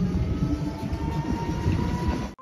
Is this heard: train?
yes